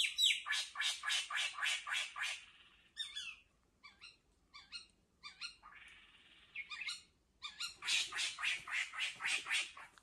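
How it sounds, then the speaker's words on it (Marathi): Birds call loudly in a forest, with rapid repeated squawking bursts at the start and end and scattered shorter calls in between, close and clear over a quiet background. "शांतपणे जर ऐकलास ना तर बघा पक्ष्यांचे आणि आवाज आपल्याला ऐकू येतील."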